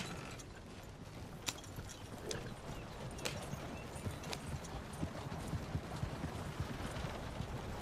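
Horse hooves clip-clop at a steady trot in the Red Dead Redemption 2 video game, a continuous rhythmic clatter over a dense rumbling background with faint creaks and clicks of tack or a carriage.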